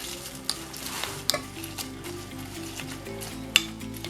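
Fly agaric balm mixture stirred in a pot, soft scraping and sizzling with a few sharp clinks of the utensil against the pot, close and fairly quiet, no voices.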